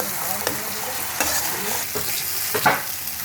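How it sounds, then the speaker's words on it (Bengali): Spice paste sizzling in hot oil while being stir-fried for a cauliflower and fish curry, a steady frying hiss with a few scraping stirs of the utensil against the pan. "মশলাটা তেল বেরিয়ে আসা পর্যন্ত আমি মশলাটা কষাবো"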